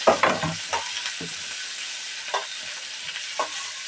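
Chopped onions sauté in a hot pan with green chillies, giving a steady close sizzle broken by a few sharp scrapes and stirring knocks, with no voices.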